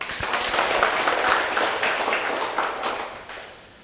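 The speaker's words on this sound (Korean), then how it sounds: "자, 박수 한번 치겠습니다." A seminar audience gives a round of applause, dense clapping that holds steady at moderate loudness for about three seconds before tapering off at the end.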